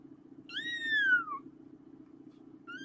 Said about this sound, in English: Got a little kitten.